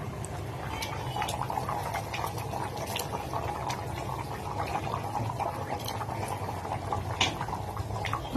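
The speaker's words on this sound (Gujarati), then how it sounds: "એમાં આપણે પાણી નાખશું" Water is poured into cooked vegetables in a pressure cooker, giving a steady, even bubbling and liquid hiss with scattered small pops and drips, close and continuous throughout with no talk.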